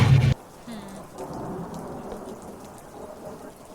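A thunderstorm with heavy rain opens with a loud, brief crash, then settles into a steady wash of downpour with low rumbling beneath it.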